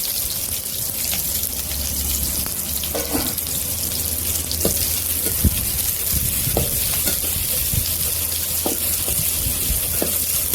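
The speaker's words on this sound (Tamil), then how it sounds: "வெங்காயம் பூண்டு அதெல்லாம் போட்டு ஃப்ரை நல்லா ஃப்ரை பண்ணணும்" Onion and garlic fry loudly in a pan, a dense constant sizzle broken by sharp clicks and scrapes of a stirring utensil, close up with no voices.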